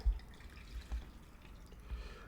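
Cooked ramen noodle water being poured off from a pot into a potted plant, heard as a few soft drips and low splashes close by, with quiet trickling between them.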